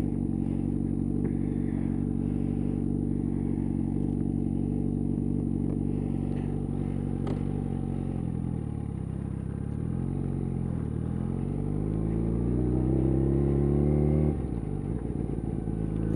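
A motorcycle engine idles steadily and close by with a deep, even rumble, dipping and rising slightly in pitch a couple of times near the end.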